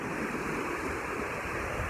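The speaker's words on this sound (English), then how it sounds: "Check out the waves." Cold Atlantic Ocean waves in the Bay of Fundy wash in as a continuous, fairly soft hiss of surf with some wind rumble, no talking.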